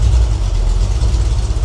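A freshly rebuilt 302 V8 engine runs on its first break-in run, a loud, steady low rumble that holds close and even without revving or voices.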